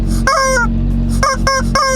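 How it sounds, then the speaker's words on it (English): A rubber chicken toy squawks loudly several times in quick bursts, harsh honking squeals over a low steady engine hum inside a vehicle. "I brought my rubber chicken with me."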